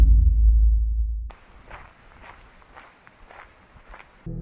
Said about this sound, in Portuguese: Passos lentos, pesados, como se alguém estivesse caminhando entre as árvores.